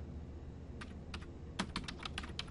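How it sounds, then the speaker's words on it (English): Typing on a computer keyboard into a Windows search box, a brief burst of quiet, close key clicks in an irregular run of about a dozen taps. "I'm going to type"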